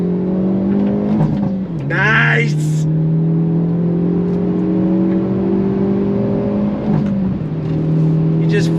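A 2023 Hyundai Elantra N pulls hard on throttle, its engine droning loud and steady from inside the cabin, with brief pitch drops at gear shifts. A voice speaks briefly over it.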